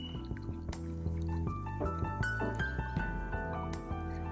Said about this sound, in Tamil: அப்படியே கட்டி மாதிரி சேராமல் நல்லா அப்படியே மிக்ஸ் பண்ணிக்கலாம்.